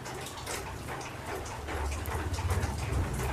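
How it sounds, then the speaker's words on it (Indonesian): Rain pours down outdoors in a dense, continuous hiss of drops that swells slightly louder toward the end, with no voices over it. "ini di luar hujan ya. Mungkin suaranya agak berisik."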